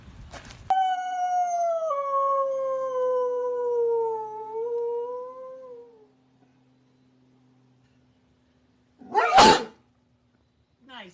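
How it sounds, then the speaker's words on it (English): A single sharp, close sneeze bursts out near the end, after a long drawn-out dog howl and a stretch of near silence. "I sneezed."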